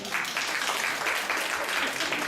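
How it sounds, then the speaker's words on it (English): Short burst of audience applause, steady and fairly loud throughout, with a hint of voices mixed into the clapping. "By round of applause."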